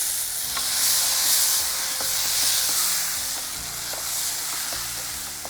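Ground tomato paste sizzles in a frying pan with a steady, bright hiss, and faint stirring clicks appear now and then over the continuous frying noise.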